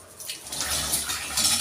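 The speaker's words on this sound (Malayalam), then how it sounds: "കുറച്ചിനകത്തേക്ക് വെള്ളം ഒഴിക്കുക" Water is poured into ragi porridge, making a short splashing trickle that swells slightly and continues steadily close up, with no talk.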